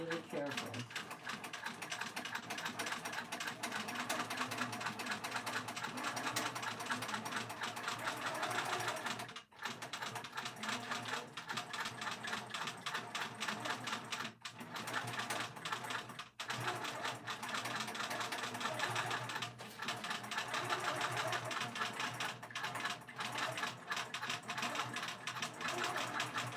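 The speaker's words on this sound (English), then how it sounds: "I'm going to start stitching around the bird." A sewing machine stitches a quilted pin keep around an embroidered bird motif in a steady, continuous mechanical whir, broken by a few brief pauses, with light talk now and then.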